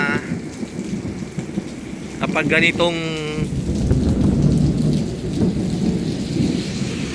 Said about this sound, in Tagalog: ganitong ulan ng ulan